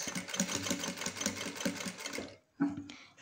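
A sewing machine stitches a folded curtain hem in a fast, steady mechanical run, stops briefly, then starts up again, close and fairly quiet.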